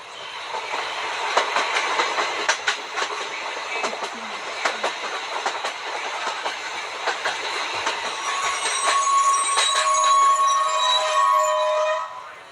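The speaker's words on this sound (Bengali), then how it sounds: "যথাসময়ে ট্রেন ছাড়লো।" A passenger train pulls away from an almost empty station and rolls along the rails, wheels clacking in steady rhythmic bursts under a broad rumble, with faint squeals rising toward the end.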